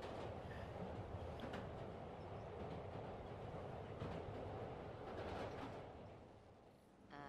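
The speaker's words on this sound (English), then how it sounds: "So ride the train downtown." A train ride through downtown in the video game Spider-Man (2018), a steady dense rumble with faint rattling clicks, loud and continuous before easing slightly near the end.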